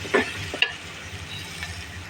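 Mung dal and chicken pieces hit a pan of frying spice paste with a soft splat and scrape, followed by a low, steady sizzle and faint stirring, with no talking.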